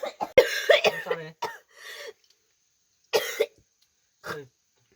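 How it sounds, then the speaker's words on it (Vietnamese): A woman coughs up blood in a series of harsh, close coughs and throat clearing, bursts clustered at first, then two isolated coughs separated by silence. "Ui, sao ho ra máu này?"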